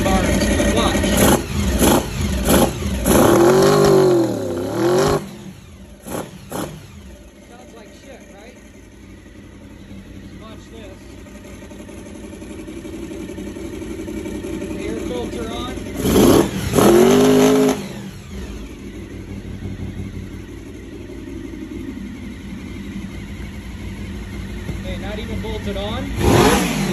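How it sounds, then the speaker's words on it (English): A motorcycle engine with a carburetor starts and revs loudly in sharp bursts, idles roughly for a long stretch, then revs hard again, with a voice talking at times. "I'm gonna go ahead and start this bike"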